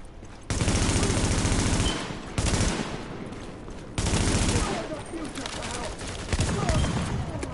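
Sustained bursts of automatic gunfire in the Tom Clancy's The Division video game, loud and close, coming in several heavy volleys with brief gaps between them.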